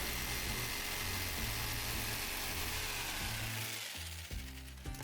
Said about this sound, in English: Now take your jigsaw. I like using this jigsaw.